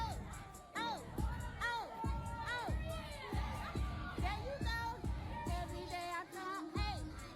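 A crowd of school kids cheers and shouts in a yard, with loud bursts of children's yelling rising and falling in quick waves while people talk close by.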